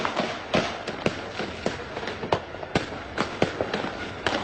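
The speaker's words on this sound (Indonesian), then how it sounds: "itu tembakan yang dilakukan oleh pihak kepolisian ke arah rumah di mana tempat mengontrak 4 orang" Police gunfire aimed at a rented house sheltering four terrorists during a raid in Ciputat, heard as repeated sharp cracks at irregular intervals, moderately distant, over steady background noise.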